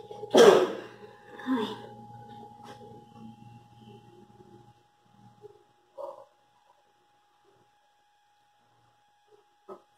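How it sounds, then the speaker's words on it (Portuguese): One loud, abrupt sneeze bursts out close by in a home kitchen while a diet carrot cake is being mixed, followed by faint clinks and quiet handling sounds. "Vocês viram o espirro que eu dei?"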